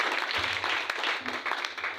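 A church congregation applauding and cheering during a French-language service, a steady wash of clapping and voices filling the room for a couple of seconds.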